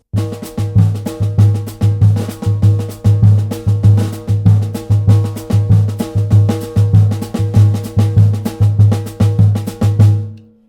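Samba groove on a jazz drum kit, the bass drum playing the surdo part on beats two, under a steady pattern of hits across the kit. The groove is close, loud and repeating for about ten seconds, with no talking.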